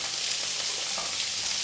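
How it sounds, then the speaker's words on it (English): Carrot and other vegetables sizzle in hot oil in a pan, a steady, even crackling hiss throughout with no voices. "You can see that it's already sizzling, so it's hot enough and a good time for me to add the rest."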